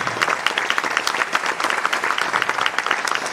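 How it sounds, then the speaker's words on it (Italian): An outdoor crowd at a live event in Tortolì gives actress Caterina Murino a loud, continuous round of applause, with many hands clapping steadily and no break. "Eccola qua, fatele un bellissimo applauso."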